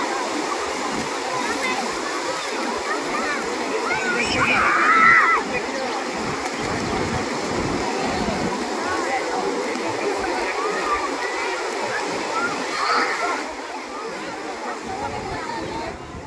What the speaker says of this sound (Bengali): দূর থেকে অনেক জোরে জোরে পানির শব্দ শোনা যাচ্ছিল